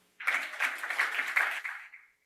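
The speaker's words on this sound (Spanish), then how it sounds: "un aplauso al doctor" Symposium audience applauding a doctor after a talk on monotherapy, a dense wash of many hands clapping that starts abruptly, holds steady for about two seconds, then tapers off.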